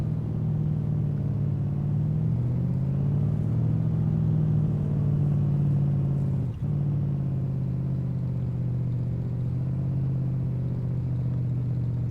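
A car drives in the video game DayZ, its engine holding a steady, loud low drone with a brief dip partway through, with no talk over it.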